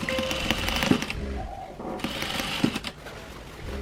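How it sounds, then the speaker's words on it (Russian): A sewing machine stitches the sleeves of a satin dress with a steady close rattling hum, pausing briefly midway, while someone talks quietly over it. "Сейчас шьем рукава."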